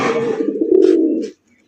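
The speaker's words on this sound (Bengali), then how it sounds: "চমৎকার একজন ঝর্ণা শাটিন কবুতরের কালেকশন দেখতেই পাচ্ছেন। নটা কিন্তু প্রচুর পরিমাণে ডাকাডাকি করে।" Jharna satin pigeons coo in a single drawn-out, low throaty call that swells and then cuts off, close and loud, with faint soft coos trailing after.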